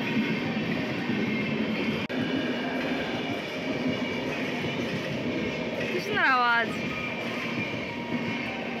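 A train runs past at Guskara in West Bengal, a steady loud rumble that fills the whole stretch, with a brief high squeal sliding downward near the end.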